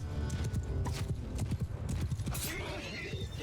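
Horses gallop in a Mount & Blade II: Bannerlord cavalry battle, with dense, rapid hoofbeats drumming continuously, a brief whinny and battle clatter mixed in.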